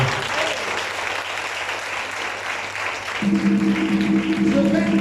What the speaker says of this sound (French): Acclame fortement le Seigneur pour vous.